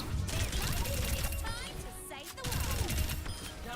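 Gunfire at the Overwatch practice range comes in rapid bursts, dense volleys of shots with a brief pause in the middle before firing resumes, loud and close, with a voice talking faintly underneath.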